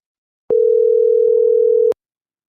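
A single steady telephone tone sounds on a call line, holding for about a second and a half before cutting off, with nobody picking up and no voices over it.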